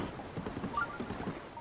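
Faint, steady clip-clop of horse hooves in The Legend of Zelda: Breath of the Wild, a soft rhythmic trot heard from a distance with a light wind-like hiss.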